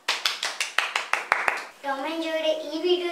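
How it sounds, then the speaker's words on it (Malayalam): A quick run of about ten sharp, evenly spaced hand claps for children who answered a school quiz correctly, followed by a voice talking. "പത്ത് ചോദ്യം ശരിയാക്കിയ കൂട്ടുകാർക്ക് ഒരു ബിഗ് ക്ലാപ്പ്."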